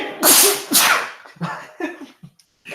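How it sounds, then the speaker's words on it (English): A single loud sneeze bursts out up close, with a sharp inhale build-up, followed by a few softer breathy sniffs and exhalations in a quiet room. "Oh, almost have to sneeze."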